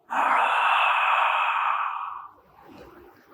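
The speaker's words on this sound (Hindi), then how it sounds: "तो आपको अब जम्हाई लेनी है।" A person yawns deeply during a breathing exercise, a long, loud airy intake through the open mouth that fades into softer breath, close by.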